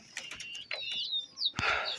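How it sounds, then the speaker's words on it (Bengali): Pigeons kept outdoors coo and chirp nearby in several short, clear calls, with light clattering and a brief burst of movement near the end. "এই যে বাইরেও কিন্তু আমার কবুতর আছে"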